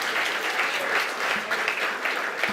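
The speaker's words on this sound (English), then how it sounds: "Another round of applause for Isabel." An audience at a data and digital showcase event applauds a presenter, a thick, sustained patter of many clapping hands with an occasional louder clap standing out nearby.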